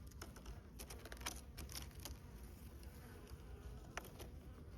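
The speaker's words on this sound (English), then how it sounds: "The cluster of bees is right there." Honey bees at a late-winter hive cluster give off a low steady hum, faint and close, with occasional soft ticks and clicks.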